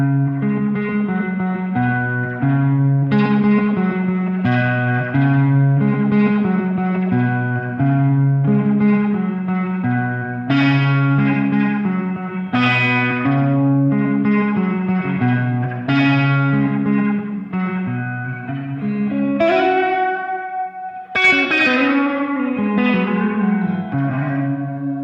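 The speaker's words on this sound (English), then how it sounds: "leave the echo level at about 3, you get a nice kind of spring reverb kind of sound" Electric guitar chords and single notes played through a Boss TE-2 Tera Echo pedal trail off in a lush, spring-reverb-like echo, rhythmic strums ringing out with shimmering repeats and no voice.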